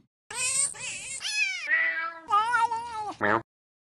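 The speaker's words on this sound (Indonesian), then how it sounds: "Dia punya banyak kucing." A cat meows several times in a close, loud string of drawn-out, wavering cries with short gaps between them, ending on a brief higher call, with no talking underneath.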